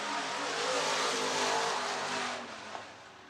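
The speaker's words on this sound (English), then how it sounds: "Rounding the bend the final time. Nick Meyer will cross the line first" Race cars on the final lap at Kossuth County Speedway in Algona, Iowa, a dense roaring engine wash swelling and then fading as the pack sweeps by at a distance.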